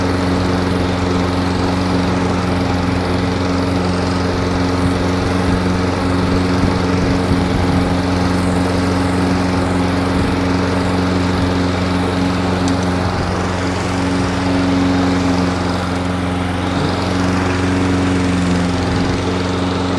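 A STIHL RM 655 VS lawn mower runs steadily and loudly up close, its engine drone constant and unbroken with a faint whine on top and no voices.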